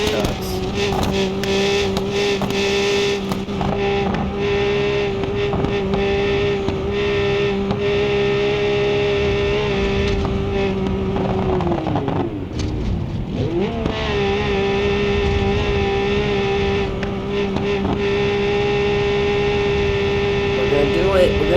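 A semi truck engine in BeamNG.Drive drones loudly and steadily, holding a constant high whine before dipping and climbing again as the rig revs back up, with no one speaking.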